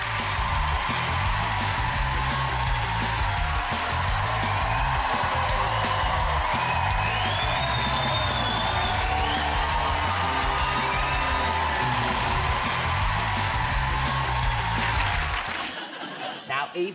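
A television studio audience cheers, whoops and applauds loudly and steadily for a comedian guest on a chat show, a thick sustained roar with music pulsing underneath before it cuts out abruptly near the end.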